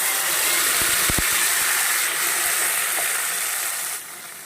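Ground spice paste of tomato, onion, garlic, ginger and chilli goes into hot oil for an egg curry, giving a loud, steady sizzle with a few dull low knocks near the start before the hiss eases slightly at the end.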